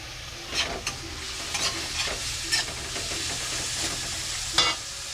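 Food fries in a pan during home cooking of a Filipino dish, a steady close sizzle running throughout with occasional sharper crackles and spatters, no voices.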